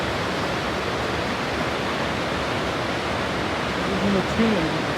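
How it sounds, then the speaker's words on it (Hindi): Loud, steady broadband rush of the Saraswati river flowing below Mana village near Badrinath, a constant roar filling the whole clip, with a faint voice-like trace near the end. "यहाँ नीचे बह रही है नदी, और नदी का साउंड है बहुत ज़्यादा"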